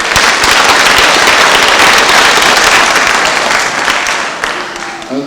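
Loud, close audience clapping at a Christmas gathering in Busoga rolls as a thick, crackling burst of many hands, then thins and tapers off toward the end.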